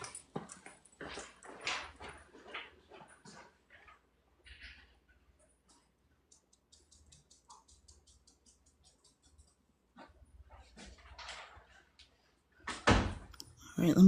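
A dog moves around a quiet room with soft pattering, rustles and faint whimpers, set between stretches of nearby talk.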